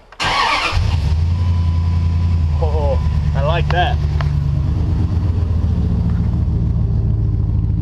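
A 1999 Dodge Ram 1500 Sport pickup engine with a glasspack exhaust cranks and starts, then settles into a loud, deep, rumbling idle from a throaty exhaust, with someone speaking briefly over it.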